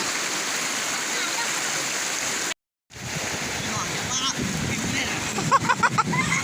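Mekong river water rushes and splashes as people play in it, a loud, steady broadband wash with a brief dropout and rhythmic splashes near the end, and voices talk over it.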